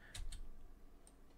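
A few quiet keystrokes on a computer keyboard while Python code is typed into a Ren'Py visual novel script, two quick clicks close together followed by a fainter tap.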